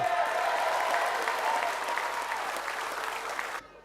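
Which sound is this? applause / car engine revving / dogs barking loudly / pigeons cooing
applause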